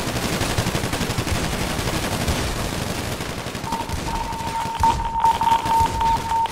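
Rapid automatic gunfire rattles continuously in a tactical shooter video game, loud and dense bursts throughout with a steady electronic tone entering partway.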